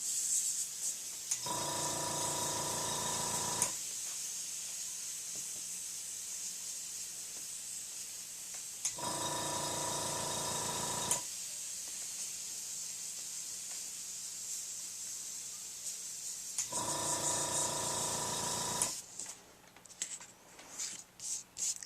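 Compressor-driven airbrush spraying a sky background with Copic inks, a steady hiss running throughout, with three longer louder bursts of spraying and some clattering handling noise near the end.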